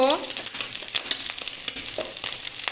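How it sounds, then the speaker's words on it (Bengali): Prawns frying in a pan with onion and green chilli, a steady close sizzle with scattered crackles and a few stirring scrapes, no talk. "পেঁয়াজ আর কাঁচা লঙ্কা দিয়ে চিংড়ি মাছটাকে লাল লাল করে ভেজে নিয়েছি"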